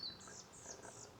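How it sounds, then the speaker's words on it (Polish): Birds chirp faintly in a Podkarpacie forest in southeastern Poland, giving a few soft, high tweets over about a second against quiet background hiss, with no talking. "Ptaszki pięknie ćwierkają"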